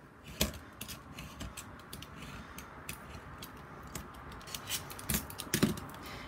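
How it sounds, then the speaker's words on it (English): Blade cutting the corner of a folio template along a ruler, giving a series of soft, close scratchy strokes and small taps over quiet room tone. "Again, using the ruler, I'm going to cut that corner."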